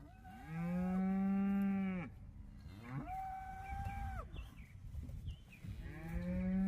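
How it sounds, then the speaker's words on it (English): Cows in a pasture mooing loudly and close by, three long drawn-out moos with pauses between them, the middle call softer and higher. "Cows, moo!"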